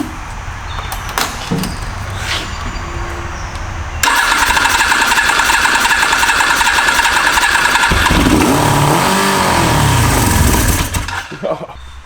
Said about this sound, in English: This thing just fired up.